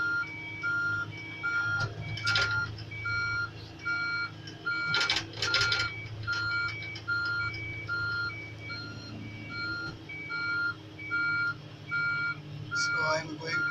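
A telescopic crane moves with its reversing alarm sounding, a steady, evenly repeated series of beeps over a constant diesel engine drone, with occasional clanks and brief bursts of mechanical noise.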